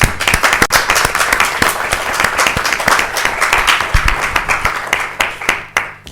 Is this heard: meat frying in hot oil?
no